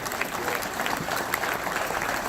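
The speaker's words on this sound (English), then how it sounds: "So she needs a big applause." An audience at the Emerald Society Irish Person of the Year award event claps steadily, a dense, even burst of applause from a sizable crowd with no pauses.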